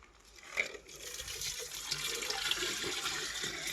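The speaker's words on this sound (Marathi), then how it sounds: "पाणी पूर्णपणे भरून घेऊ आपण." Water poured into a banana stem set out for bees in summer, a soft splashing rush that builds and holds steady, faint and alone.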